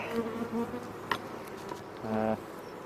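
Honey bees buzz close by in short droning bursts during a hive inspection, a low hum that rises and fades, with a faint click in between.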